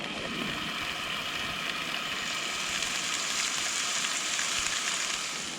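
Bacon fries in a pan at a campsite, a steady close sizzle with fine crackling and popping that holds throughout.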